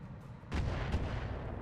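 R-59 artillery fire in the mech video game RogueTech, a sharp booming report followed by a second blast and a rumbling tail, moderately loud, with no speech.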